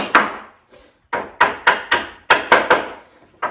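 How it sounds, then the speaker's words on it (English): Hammer blows knock nails out of pallet wood, about eight sharp woody strikes in an uneven rhythm, close and fairly loud with no talking. "we'll just go ahead with our hammer, bosh them out like so"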